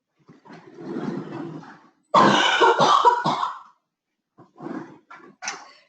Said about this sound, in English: I'm going to have another cough